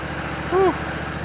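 A lawn mower fitted with a string trimmer attachment in place of standard blades hums at a steady, moderate idle. A brief tonal whine rises over it once, and a voice speaks briefly.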